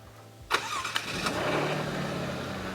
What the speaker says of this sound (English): So, starts up pretty quiet actually. Doesn't sound like a 500 horsepower supercar, right?